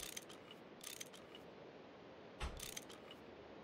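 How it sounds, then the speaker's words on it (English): Wrench sound effect in the Minecraft GregTech New Horizons modpack, a couple of brief metallic ratcheting clicks repeating against a faint background hum, no speech. "I don't know why the wrench sound keeps happening."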